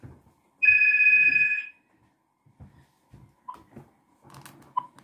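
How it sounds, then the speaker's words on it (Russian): A phone ringtone chimes once, bright and tonal for about a second, followed by quiet clicks and small handling sounds. "Звонит кто-то."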